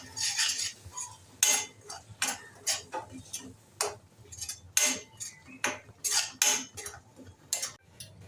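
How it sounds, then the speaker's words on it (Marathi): Ground masala paste is sautéed in a pan for egg curry, a quiet sequence of repeated metal spoon scrapes and clinks against the pan in an uneven rhythm, close by, with faint background sound. "आता आपण बारीक केलेलं वाटण घालूया आता हे सर्व छान परतून घेऊया"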